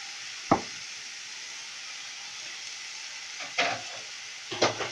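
Meat seasoned with black pepper, garlic powder and onion powder sizzles steadily in a pan, a constant hiss broken by a few sharp crackles and bursts as it is stirred.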